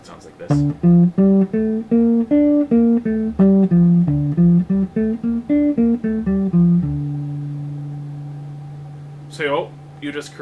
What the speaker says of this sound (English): you get a scale that sounds like this.